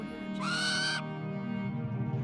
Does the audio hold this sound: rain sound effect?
no